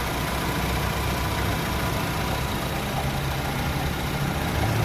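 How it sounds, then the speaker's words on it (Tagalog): A Honda Civic 1.8 with automatic transmission idles steadily after its sensor was cleaned, a continuous close engine drone with no talk over it. "Andar na siya ngayon."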